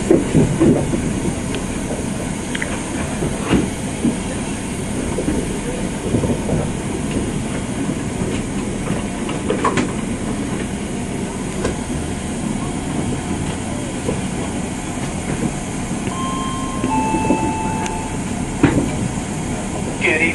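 A train running past the Crewe Heritage Centre, heard from on board as a steady rumble and hiss with occasional wheel clicks and faint squeals over twenty seconds, a constant rolling noise.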